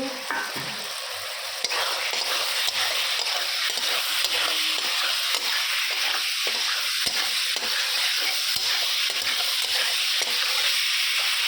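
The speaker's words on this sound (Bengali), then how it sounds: "ফুলকপি, গাজর, ক্যাপসিকাম ভেজে রাখছি, দিয়ে দিলাম।" Cauliflower, carrot and capsicum fry in a pan with a steady, loud broadband sizzle, broken by occasional scraping and stirring clicks, no voices.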